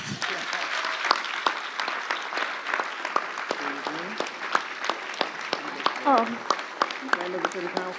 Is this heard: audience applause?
yes